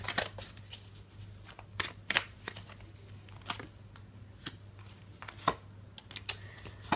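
Tarot cards being shuffled by hand, a run of crisp papery riffles and slaps in irregular bursts, close and fairly quiet, with no voices.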